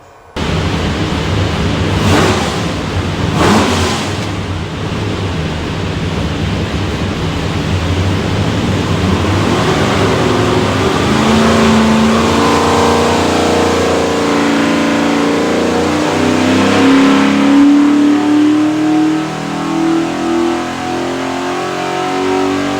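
A 347 Ford stroker V8 from a Factory Five Racing '35 hot rod truck running on a dyno, loud and close, with a steady roar that climbs gradually in pitch through a long wide-open pull, no speech.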